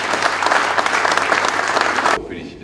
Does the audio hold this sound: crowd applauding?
yes